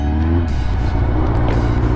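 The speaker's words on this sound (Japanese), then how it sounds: "エンジンかけているところです" A Honda CB750F motorcycle engine idles after a carburetor repair, a loud, close, steady low rumble with a slight rise in revs midway, with no talking.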